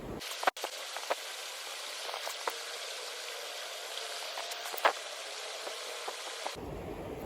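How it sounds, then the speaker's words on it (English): Steady rain falls by a river at dusk as a dense, even hiss, with a few sharper drops and taps standing out, close and continuous before the sound cuts off abruptly near the end. "as you can see, it's raining"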